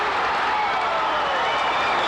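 Boxing arena crowd in upstate New York cheering for local fighter Mike Tyson: a dense, steady roar of voices and applause filling the hall without a break.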